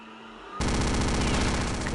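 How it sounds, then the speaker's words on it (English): The Venom gun in Return to Castle Wolfenstein starts firing at half a second and keeps going as a loud, dense, buzzing stream of rapid shots until the end. "The Venom gun also did the trick quite nicely"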